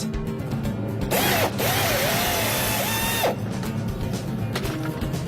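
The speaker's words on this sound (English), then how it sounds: "If needed, drill a pilot hole and then use a larger bit." A power drill bores a pilot hole while a bracket is fitted to a Cummins engine, giving one loud whining burst of about two seconds with pitch wavering as the bit bites, set between quieter mechanical background noise.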